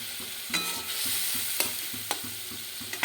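A spice masala with chopped tomato fries in oil in a pan, sizzling softly and steadily while a spoon scrapes and stirs through it in regular strokes, with no voices.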